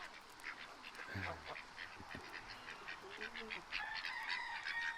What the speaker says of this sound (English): We've got a couple call ducks that are around.